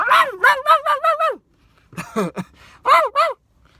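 A voice imitates a dog barking, a quick run of about six yelping barks, a short pause, then a few more barks, close and loud with nothing else around.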